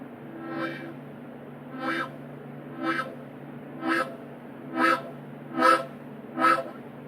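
A harmonica imitates a train with a repeated wah-like 'wow' voicing, six evenly spaced swelling blasts over a steady low drone, played up close with no talking.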